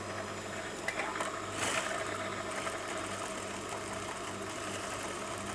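A sewing machine runs continuously while stitching a shoe sole, giving a steady mechanical hum and buzz of moderate loudness, with a small clatter partway through and no speech.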